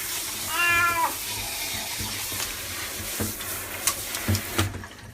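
A wet 15-year-old cat with asthma and diabetes meows loudly in a drawn-out cry while being bathed, followed by hissing spray and splashing water with scattered clatters.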